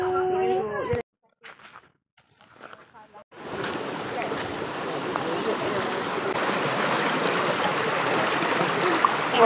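Water from a hill spring flows steadily near a river, a continuous rushing wash that starts after a few seconds of speech and a brief quiet gap.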